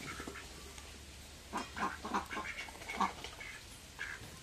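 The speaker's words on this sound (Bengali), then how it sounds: "বাড়ির হাঁসগুলো কীভাবে খাইতেছে?" Domestic ducks being fed grain at home give a string of short, uneven quacks, faint and somewhat distant over a low rural background.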